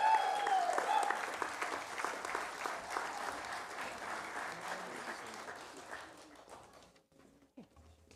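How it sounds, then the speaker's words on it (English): Applause from a graduation audience at a family medicine ceremony, steady dense clapping that fills the room for several seconds, then thins and fades out toward the end, with a brief voice early on. "one more round of applause"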